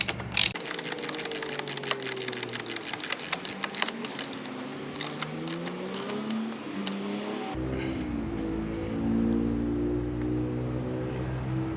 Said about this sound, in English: So I'll just do it up with a ratchet first